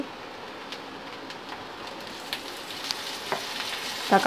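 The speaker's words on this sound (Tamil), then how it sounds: "வெங்காயம் வதக்கட்டும்." Onions sauté in a pan for a Tamil drumstick poriyal, giving a continuous close sizzle with light crackles and a few stirring scrapes, louder spatter toward the end, and no voices.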